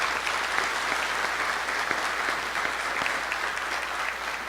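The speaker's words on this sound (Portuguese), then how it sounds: "eu quero uma salva de palmas bem forte para cada hacker cívico que está aqui sentado." A seated audience at a Brazilian congress on technology for social oversight gives strong, sustained applause to civic hackers. The steady clapping fills the whole clip, with a few sharper claps standing out.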